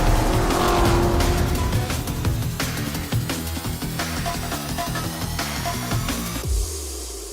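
Race cars on the Nürburgring in the Forza Motorsport video game, loud roaring engines with rapid gear shifts and tyre squeal as cars pass close by, continuous and without talk.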